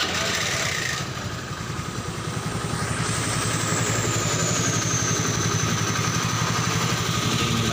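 A Honda Vario Techno 125 scooter with a spark ignition fault runs after a restart with its engine already hot, idling in a steady close, rapid putter that stays even throughout, with a faint high whine above it.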